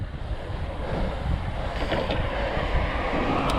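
Wind roaring across the microphone while riding a pedal bike at night in Las Vegas: steady loud broadband rushing that holds through the whole stretch, with no voice.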